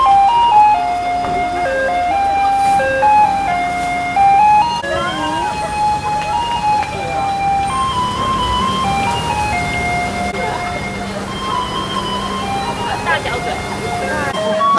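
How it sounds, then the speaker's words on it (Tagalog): A Taiwanese garbage truck plays its melodic jingle continuously while collecting trash on the street, the tune loud and steady with traffic and street noise mixed in. "nakita namin in action yung trash truck sa pag-collect ng garbage"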